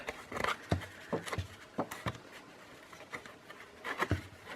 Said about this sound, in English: So I'm just going to rip it a little bit with my fingers